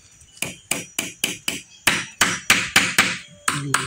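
Hammer striking a nail into a small wooden board and bending it over, a dozen loud close blows in a fairly even rhythm, slightly quicker toward the end.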